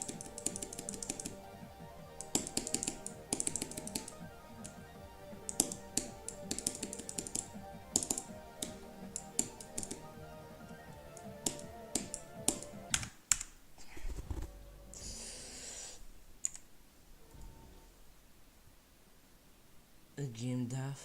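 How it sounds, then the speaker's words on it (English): Rapid clicking from a worn computer keyboard runs through most of the stretch, near and fairly loud, with a voice talking over it before the keystrokes thin out and fade near the end. "My keyboard is like 3 minutes away from being dead."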